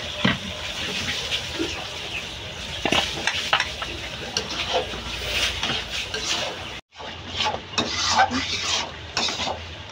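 Taro in a kadai sizzles as a tempering of fried onion and garlic is added, with busy stirring, utensil scrapes and clinks over a lively crackle, briefly cutting out partway.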